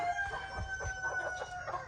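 A pair of bantam chickens, a small rooster and hen, clucking and crowing in short bursts at close range in a courtyard, with a steady tonal hum running underneath.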